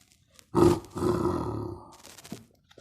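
A person imitates a lion's roar with a loud, close, throaty burst followed by a longer, rougher roar that fades out, with no talking.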